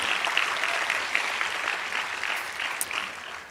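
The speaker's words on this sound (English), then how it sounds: "let's give them a round of applause" Audience applause at the Desmond Tutu International Peace Lecture, dense steady clapping from a large crowd that holds for several seconds and eases slightly at the end.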